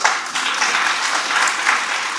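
Audience applause at a security forum gathering in Homa Bay, Kenya: a dense, loud wash of clapping that holds steady for the whole stretch.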